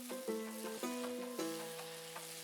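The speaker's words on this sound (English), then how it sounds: "add the corn, let it cook for a couple of minutes" Corn sizzles in a pan with chili black peppercorn powder, a soft continuous frying hiss under a faint tonal background with a few light clicks, fairly quiet and without talk.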